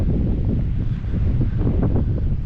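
Strong wind buffets the microphone in a continuous low roar, gusting unevenly throughout with no voices.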